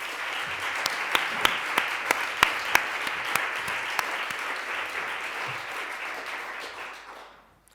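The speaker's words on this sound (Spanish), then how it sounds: "pues vamos a dar un aplauso y empezamos" A lecture audience gives a sustained round of applause before a talk on Iris Murdoch, many hands clapping in a dense wash with a few sharp, louder claps standing out, then fading away toward the end.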